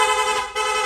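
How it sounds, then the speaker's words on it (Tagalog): A Piaa rapid horn fitted to a Honda Click V2 scooter blares in a continuous, loud, close burst for under a second, with a slight dip in the middle. "Rapid horn."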